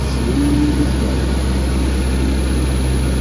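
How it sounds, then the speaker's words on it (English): A 1994 Jaguar XJ12 V12 engine idles smoothly and steadily in the engine bay, a loud, even low rumble with no revving, alone without talk. "Engine running video, 1994 Jaguar XJ12"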